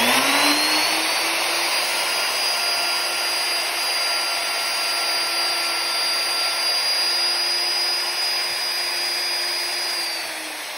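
A plunge router cuts a stop dado in wood, guided along a clamped straight edge: a steady, loud high-pitched motor whine with a constant tone, running alone for about ten seconds before easing off at the end.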